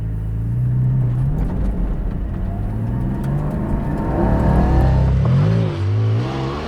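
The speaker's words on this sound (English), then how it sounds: "put it in sport, hit the paddles, put the exhaust on loud" A Porsche Cayman GT4 with PDK automatic revs hard as it accelerates in sport mode, its loud exhaust rising and falling in pitch through the gear changes.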